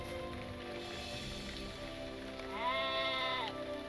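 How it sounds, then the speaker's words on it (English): Sheep bleat in the Lord of the Rings Online video game: one clear, wavering bleat rises near the end over a soft, steady ambient game backdrop. "I've heard sheep over there"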